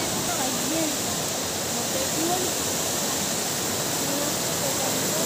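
Salbosa Falls sends out a loud, steady rush of falling water, a dense, unbroken roar that fills the whole clip, with faint voices mixed into the wash.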